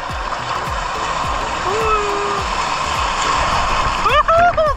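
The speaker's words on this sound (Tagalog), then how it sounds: "Ang lakas ng alon." Strong ocean waves splash and churn near the shore in Batanes, a loud continuous rush of water, with people's voices breaking in near the end.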